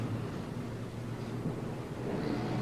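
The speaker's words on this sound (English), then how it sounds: "Yeah, there's a plane up there, all right. Very hard on the ears." A jet plane flying overhead, a low, broad rumbling roar holding steady for a few seconds and swelling slightly toward the end, with no talk.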